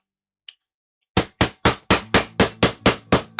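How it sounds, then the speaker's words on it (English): Hammer blows on glued leather boot parts, nine sharp evenly spaced strikes in a quick steady rhythm after a faint tap and brief quiet, close and loud with no speech. "Now we're going to hammer it down."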